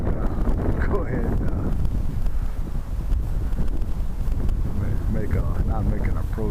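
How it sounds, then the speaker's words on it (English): A strong, gusty crosswind buffets the microphone at an RC model airfield where a Big Stik 40 is being flown in about 25 mph wind. The roar is continuous and loud, with a voice faintly audible underneath. "It's going to be a trip landing this thing with that crosswind because it's strong."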